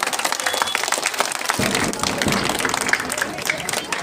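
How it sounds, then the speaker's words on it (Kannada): Students clap loudly at a school science and art fair opening at Gurukula International School, a dense burst of applause that swells after a quieter start, with a voice talking over it. "ಎಲ್ಲಾ ವಿದ್ಯಾರ್ಥಿಗಳು ಜೋರಾಗಿ ಚಪ್ಪಾಳೆ ತಟ್ಟಿ"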